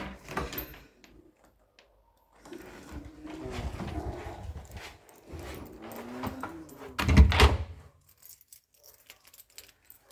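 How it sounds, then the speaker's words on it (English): Keys jingle and rattle in a lock, then a sharp clunk as the door unlocks, all close by with no talking. "Unlock the door."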